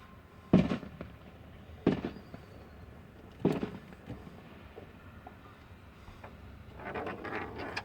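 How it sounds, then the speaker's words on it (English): Fireworks display at the Wayne County Fairgrounds, with three loud, sharp bursts spaced about a second and a half apart, followed by a crackling rush at the end, heard from a distance. "Are we late for the fireworks?"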